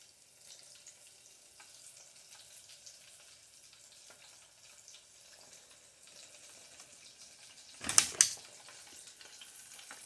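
Battered chicken tenders deep frying in oil, a faint, steady bubbling crackle that runs throughout, interrupted near the end by two loud, sharp clatters.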